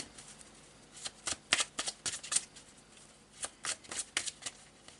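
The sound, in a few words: shuffling Marseille tarot cards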